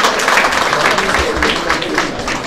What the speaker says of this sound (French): Applaudissements s'il vous plaît, mesdames et messieurs.